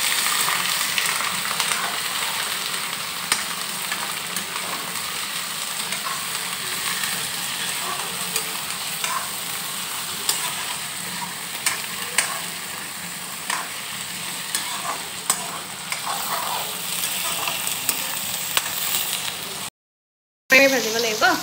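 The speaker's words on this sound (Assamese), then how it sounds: "ভাজি লওঁ মাংসটো অকণ ভাজি লোৱাৰ পিছত আদা নহৰু দিম" Chicken meat frying in a pan, a steady sizzle with repeated scraping stirs throughout, fairly close, with a short break near the end.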